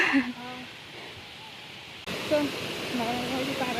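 A waterfall with built steps nearby fills the air with a steady broadband rush of falling water. The roar grows louder partway through, and voices talk over it.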